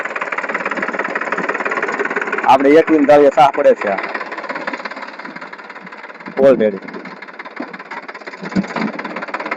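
A tractor engine chugs steadily and continuously at close range while marking groundnut furrows in a field, a constant mechanical drone with a person talking over it in brief stretches.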